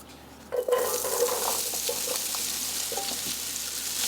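Potato pieces land in hot bacon fat with a burst of sizzling, then fry with a steady crackling hiss punctuated by a few stirring scrapes.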